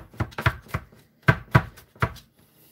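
Garlic being chopped with a knife on a board: about seven sharp, separate chops in an uneven rhythm, close and fairly quiet, with pauses between them and no voice.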